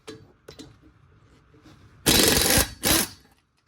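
A power impact tool spins off wheel spacer nuts on a Ford F150 with 1.5 inch spacers, two loud, brief rattling bursts following faint clicks and handling noises.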